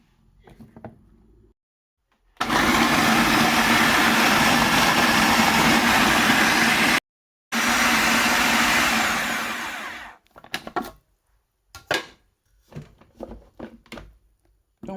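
An electric food chopper chopping vegetables runs in two loud, steady motor bursts with a brief stop between them, then short clattering taps and handling noises follow, nearby with no speech.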